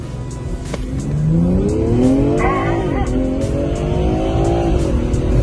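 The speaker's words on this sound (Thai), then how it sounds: "แค่ปล่อยเท้าออกจากเบรกเท่านั้นเองรถก็จะพุ่งทะยานออกตัวไปแบบเร็วมากๆ" A BMW M340 launches hard from a standstill using launch control on a race circuit, its engine revving up through rising gears with tire squeal, loud and close throughout.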